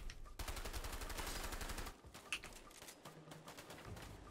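Sustained automatic gunfire in a video game rattles in quick repeated bursts, then thins into scattered separate shots, fairly quiet and heard without talk.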